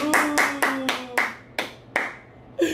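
A few people clap hands in a hotel room in New York, about nine distinct claps in an uneven rhythm, close and fairly loud, with no talking.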